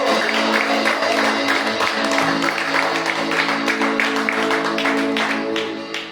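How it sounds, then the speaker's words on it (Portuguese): A church congregation claps loudly and continuously at a worship service, dense applause with a sustained organ or keyboard tone underneath, fading slightly toward the end. "Aplauda o nome do Senhor!"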